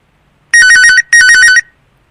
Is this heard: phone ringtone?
yes